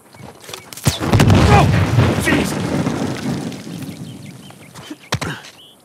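Excavation blasting explosions in the action game Uncharted 4, heard as a sharp crack followed by a long rumbling boom that slowly fades, then a few more distant thuds, with voices talking beneath.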